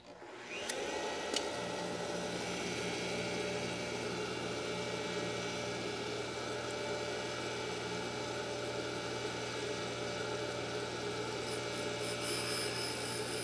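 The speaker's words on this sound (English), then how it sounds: "once you can audibly hear the valve finish grinding, then you can pull the stone away from the valve." An engine valve from a 302 engine is ground with a lapping stone, producing a continuous, even rasping whine that holds steady from start to finish.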